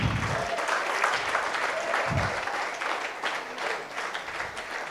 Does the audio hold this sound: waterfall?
no